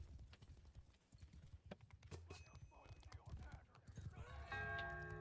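Cavalry horses in a multiplayer battle game clip-clop in quick hoofbeats, with a whinny and ringing bell-like tones building near the end, under talk.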